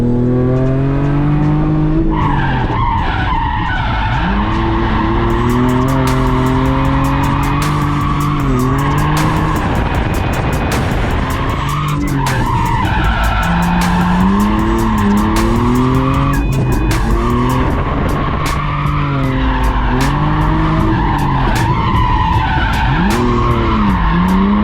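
A car drifting around a track in a BMW or Infiniti drift car, engine revving hard and rising and falling as tires squeal loudly and continuously through long slides, close and dominant throughout.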